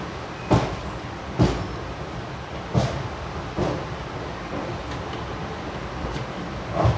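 West Coast Express train pulling out of Palghat Junction in the early morning, with a steady low rumble inside the coach broken by several sharp clanks and knocks at irregular intervals.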